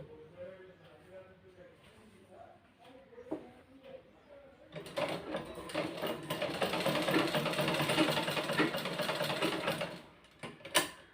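A tailoring sewing machine stitches a folded cloth seam with a quarter-inch allowance, a close, rapid mechanical clatter running for several seconds after someone speaks, then stopping.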